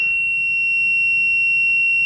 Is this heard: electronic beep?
yes